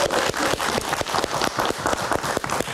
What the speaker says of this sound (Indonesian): Kita kasih tepuk tangan untuk Prof. Yudo.